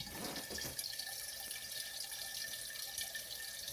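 Filtered water from a refrigerator dispenser pours into a jug in a steady, quiet trickle that fills the short stretch without pause.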